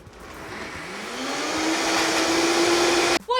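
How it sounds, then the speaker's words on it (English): A Vitamix blender whirs through fresh herbs for a rice cooking base, its motor rising steadily in pitch over a few seconds before cutting off abruptly, loud and close with no voices. "I'm gonna add this directly into the Vitamix"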